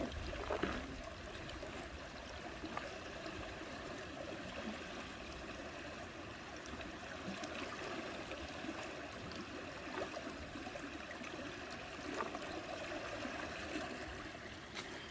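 River water flowing steadily in a continuous broadband rush, close and even throughout with no clear breaks and no one talking.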